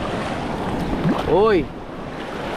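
Ocean waves rush and roar steadily, mixed with wind noise, while a person gives a brief exclamation partway through.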